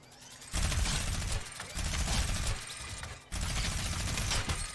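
Minigun fire in the Fortnite video game, three long rattling bursts with brief gaps between them, loud and up close.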